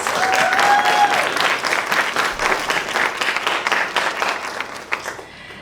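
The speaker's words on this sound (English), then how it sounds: "let's give them another round of applause" Presenters at a business pitch contest get a loud round of applause from the audience, thick clapping that swells early, then thins and fades out near the end.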